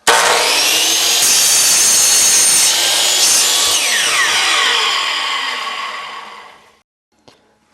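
A saw cutting through a 2x2 wood piece clamped to a work surface, one continuous loud rasping stroke that runs steadily, then fades out as the cut finishes, followed by a couple of faint knocks.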